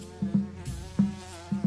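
Carpenter bee, a furry wood-nesting bee, buzzing in short close bursts with brief pauses between them, no voices.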